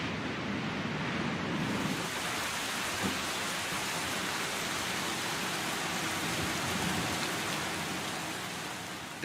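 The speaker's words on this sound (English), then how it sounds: "now you have realistic sounds of rain, hail, and wind" Simulated rain in the X-Plane flight simulator, a dense continuous patter on a surface with a low rumbling undertone, holding at an even level throughout.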